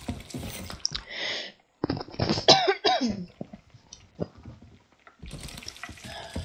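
A character coughs in the pirate video game Sea of Thieves, a few close rough bursts mixed with splashy water and liquid sounds and other game noise.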